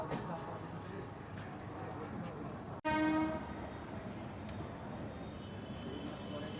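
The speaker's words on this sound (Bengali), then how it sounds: "আমাদের ট্রেন ছেড়ে দিল হাওড়া স্টেশন থেকে, হাওড়া স্টেশনের 6 নম্বর প্ল্যাটফর্ম থেকে।" The 12347 Sahid Express pulls out of platform 6 at Howrah station with a steady rumble of wheels and carriages, broken by a short, loud horn blast midway, while a voice talks over the noise.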